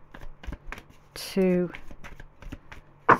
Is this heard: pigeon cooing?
no